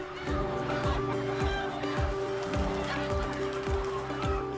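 Chickens settling onto their roosts at night give soft, repeated clucks in a steady rhythm over a constant low hum.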